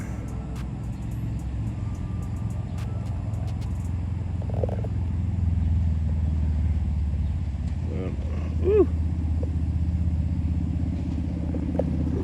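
A Harley-Davidson Road King motorcycle rumbles steadily as it approaches, its low engine drone continuous throughout with a brief rise near the end, while a high squeal briefly cuts through the background.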